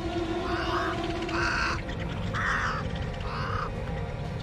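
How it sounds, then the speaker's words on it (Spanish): Crows cawing in the Face Your Fears 2 VR video game, four harsh caws spaced about a second apart over a steady ambient background, fairly close and clear. "Uy, los cuervos me dan mucho miedo"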